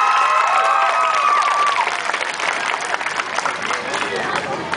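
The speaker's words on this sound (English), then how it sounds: "Round of applause for her." An audience at a small-town talent show applauds and cheers after a young performer's act, a loud, sustained wash of clapping mixed with crowd chatter, while a host speaks over it.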